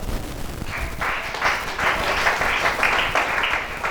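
Applause from an audience at a Gabonese gathering, a dense, steady wash of clapping that swells slightly and carries on for several seconds, loud and close.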